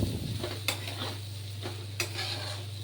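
Vegetables for veg biryani are stirred in a pot over a continuous frying sizzle and a steady low hum, with a few sharp spoon knocks against the metal standing out at close range.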